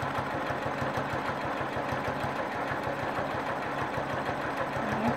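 A sewing machine quilting a leaf stem on a whole-cloth piece runs in a steady, rapid rhythmic chatter, close and continuous, with no talking.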